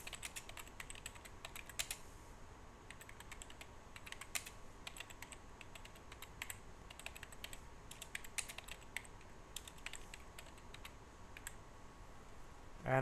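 Rapid, light clicking of a computer keyboard as tags are typed in, steady close keystrokes with small pauses, faint and alone without talk.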